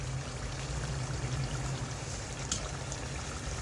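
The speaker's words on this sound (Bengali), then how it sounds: "এখন গরম জলটা দিয়ে দিন" Hot water is poured into a pot of cooking beef, producing a steady, soft watery rush and sizzle that holds evenly throughout, with no talk.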